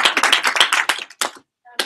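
Audience at a reception clapping, a short close burst of individual handclaps that thins out into a few last scattered claps.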